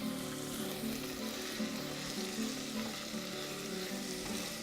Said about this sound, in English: And you're going to start stirring them up.